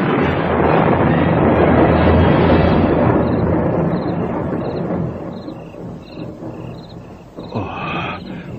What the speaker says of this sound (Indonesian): Oh, petir.